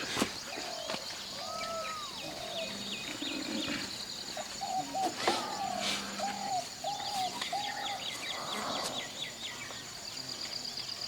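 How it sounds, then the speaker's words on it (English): Bulbuls call among the trees in a forest of the Bargur Hills, giving several short, clear whistled notes in bursts over soft background insect hum. "The birds are bulbul, no? They are bulbuls."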